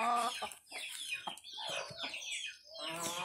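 A young yellow hen clucks repeatedly up close in a series of throaty, rising calls, loud and alone.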